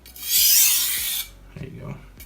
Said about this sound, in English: you want to make sure you get all the way up to the tip too, because you want to sharpen your tip